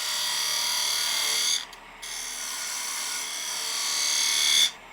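Wood on a small lathe being cut with a turning tool to take a half-tool-width relief cut beside a guideline, making a steady, close, loud grinding hiss that breaks off briefly partway through and stops near the end.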